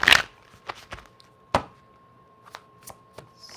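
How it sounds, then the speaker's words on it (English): Tarot cards being shuffled by hand, heard as a sparse series of crisp taps and riffles with quiet pauses between them, close and clear with no talking. "Let me get a little shuffle in."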